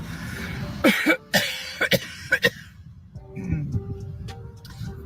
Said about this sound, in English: Just thought I should clear my throat